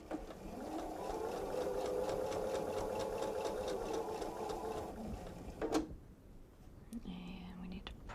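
A sewing machine runs steadily up close while stitching a bench pillow, a rapid rhythmic whirring hum for several seconds that then stops, followed by soft handling noises and quiet speech.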